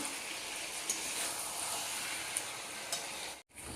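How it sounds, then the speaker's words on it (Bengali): Mutton curry masala fries in separating oil for a thin goat curry with potatoes and whole garlic, giving a steady close crackle and sizzle with a few sharper pops. No one speaks. "মশলা থেকে তেল ছেড়ে দিয়েছে এই দেখো আর খুব সুন্দর একটা চটচট শব্দ হচ্ছে"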